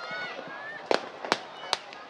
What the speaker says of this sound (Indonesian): Dapat Anda saksikan di layar kaca Anda mulai kembang api dinyalakan